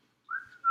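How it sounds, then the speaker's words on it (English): A person whistles a single short, clear note that holds steady and then rises briefly at the end, alone in a quiet room. "Whistling Dixie."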